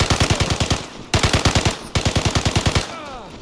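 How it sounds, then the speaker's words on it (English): Bursts of rapid automatic Thompson submachine gun fire in the game Vigor, three long strings of evenly spaced shots, loud and close, trailing into a brief echo. "Probably could win if I dodge his bullets from his Thompson."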